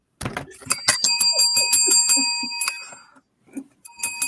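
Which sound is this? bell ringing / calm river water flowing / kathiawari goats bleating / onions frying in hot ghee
bell ringing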